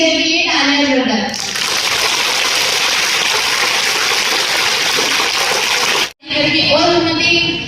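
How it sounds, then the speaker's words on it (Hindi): Loud, dense applause for the teachers at a school's International Women's Day celebration, a roaring sustained burst between stretches of a voice talking, cutting off abruptly near the end. "सिर्फ टीचर के लिए तालियां जोरदार।"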